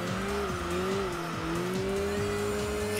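Tires squeal steadily as a race car brakes hard into a corner in the racing game Enthusia, a sustained skidding whine over the engine's hum with a faint rhythmic rumble beneath.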